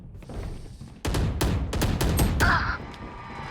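Bursts of gunfire from an online shooter game crack out in quick rapid volleys after a quieter start, followed by a softer mechanical rattle.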